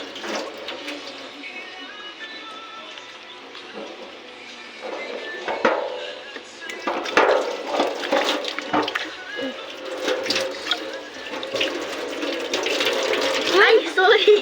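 Cold water poured from a container, a thin running trickle and splashing that grows louder and busier toward the end, with people talking nearby.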